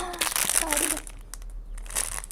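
A plastic package bag crinkles loudly and close up in busy, rustling bursts as it is handled during a parcel unboxing, then quiets before another short flurry of crinkling.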